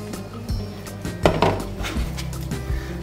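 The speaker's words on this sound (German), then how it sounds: "Jetzt tue ich die Bohnen dazu." Beans are tipped into a bean salad bowl, with a few close clunks and soft scraping knocks of utensils against the dish, no voices heard.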